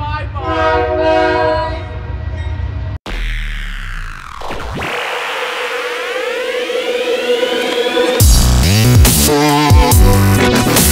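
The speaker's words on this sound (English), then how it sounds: "there is a freight train" A loud train horn blares, followed by heavy rumbling and shifting tones as a train passes close by, the horn sounding again near the end.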